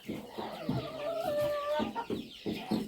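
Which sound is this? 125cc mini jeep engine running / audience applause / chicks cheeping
chicks cheeping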